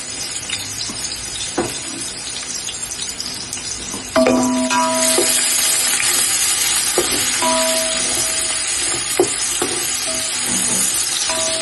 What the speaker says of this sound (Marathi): आता मी तेल तापवत ठेवलेलं, त्यात तमालपत्र आणि मसाल्याची वेलची टाकली आणि मी हा आता कांदा टाकते फोडणीला